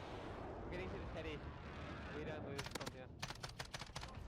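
Gunfire in the video game Warzone: a rapid burst of sharp shots followed by several distinct tapped shots, over a busy game soundscape with a voice talking earlier.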